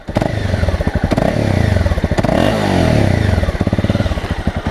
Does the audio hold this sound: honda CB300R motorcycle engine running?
yes